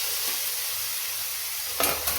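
Tomato and soya mixture for soya kheema sautéing in a pan, a steady close sizzle with a low hiss throughout and a brief louder stir or scrape near the end.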